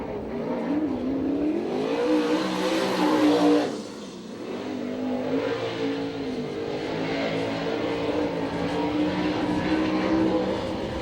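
USAC/CRA sprint cars race at Tucson, Arizona, their engines a loud, steady, rising and falling roar that briefly fades before surging again, heard from trackside with no talk.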